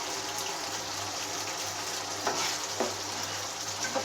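Chicken roast masala with raisins sautéing in a pan, a loud steady sizzle with occasional scraping stir strokes, no voices.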